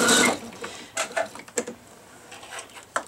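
Close, quiet sewing machine back stitching on quilt binding, running in short bursts of mechanical whirring and clatter separated by brief pauses.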